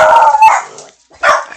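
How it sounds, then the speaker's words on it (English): Dogs in the video game Wurm Unlimited give loud, close barks with a howling edge. A sustained yelping cry leads into a bark, then after a short pause another bark follows. "The dogs started going ape on us."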